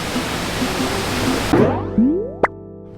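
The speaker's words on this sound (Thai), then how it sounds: "เออนี่น้ำตก เห็นไหม" Pre To Lo Su waterfall near Doi Mamuang Sam Muen in a Thai forest: a steady, close rushing roar of falling water that cuts off midway, followed by a brief rising twangy tone and a short pop.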